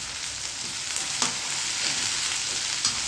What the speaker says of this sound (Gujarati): રાઈ અને જીરું આવી ગયા છે, હવે મેં એમાં હિંગ નાખી છે. હવે જો આ છે ને આ લસણ નાખું છું.